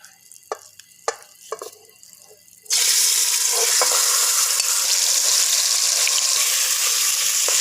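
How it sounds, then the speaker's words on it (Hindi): Marinated beef dropped into hot oil, a mix including mustard oil, in a pot for Bihari gosht handi: a few faint clinks, then a sudden loud, steady sizzle that carries on unbroken, close by and without speech. "अब इस ऑयल में हम ये मैरिनेट किया और गोश्त शामिल करेंगे।"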